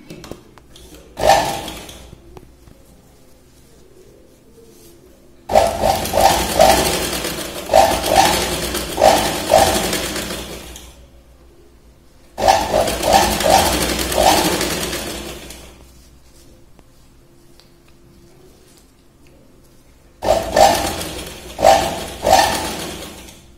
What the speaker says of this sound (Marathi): इथे दाब शिलाई लावून घेऊ